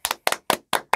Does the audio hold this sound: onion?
no